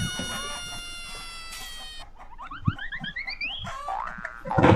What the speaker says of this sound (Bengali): মুরগি কোথায় মুরগি আছে একটা ধরবো